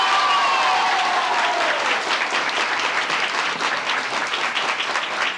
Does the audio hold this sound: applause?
yes